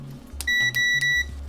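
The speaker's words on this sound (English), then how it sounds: "So I'm putting this probe in beep mode." A multimeter in continuity mode beeps as its probes test the power rails of a laptop damaged after a battery swap: three short, steady electronic tones in a quick row, close and loud, with a low hum beneath.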